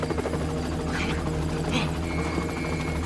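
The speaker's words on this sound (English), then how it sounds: "We've called in the chopper." Helicopter in GTA Online during a Diamond Casino heist mission, a steady close rotor thump and engine whine throughout, with brief voices over it.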